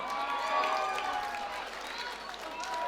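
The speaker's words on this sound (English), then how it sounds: "round of applause for our final contestants this evening" Audience applause at a Queensbury boxing derby, a dense continuous wash of clapping and crowd noise from a packed hall, with a voice talking over it.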